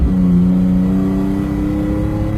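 A petrol Jeep fitted with an aftermarket air intake and a Borla cat-back exhaust revs loudly and close, its deep steady engine note rising and holding.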